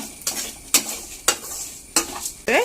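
Frying in a pan for a Mangalore-style mutton gravy, with a low sizzle under five sharp, evenly spaced stirring scrapes of a utensil against the pan, close by and without talking.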